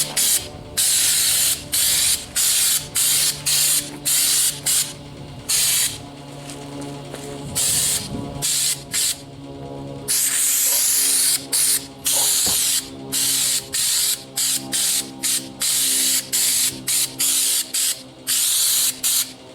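Bedliner coating being sprayed in light coats onto a Ford Maverick pickup bed, heard as loud bursts of spray hiss in a steady on-off rhythm, each pass lasting about a second, alone with no talk.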